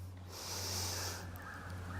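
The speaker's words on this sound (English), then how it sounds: "breathing out" A slow, steady exhale through the body during a hip flexor stretch, soft and close, with an airy hiss that swells and fades over about a second, with a low steady hum underneath.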